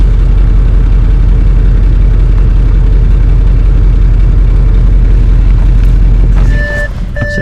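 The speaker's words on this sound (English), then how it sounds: "Idling at 58 in comfort now." An Audi RS6 with its silencer deleted idles in comfort mode, giving a steady, loud, continuous low rumble. Short, clear electronic beeps come in near the end.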